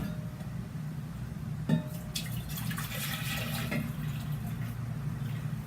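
Tea poured from a container into a measuring cup, a continuous splashing liquid pour with a brief knock at the start, moderately faint and heard alone.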